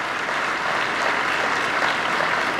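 Dense, loud applause from a large audience at the 2018 Global Climate Action Summit in San Francisco, a continuous wash of clapping sustained throughout.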